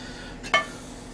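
A Lodge 10-inch cast iron frying pan is handled for cooking eggs, giving a single brief metallic clink of cookware, fairly faint and alone against a quiet kitchen background.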